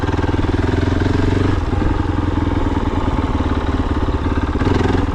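KOVE 450 Rally motorcycle with a Rekluse clutch and an upgraded tune, its engine running steadily at low speed down toward idle, a loud, close, even thumping throb with no voices.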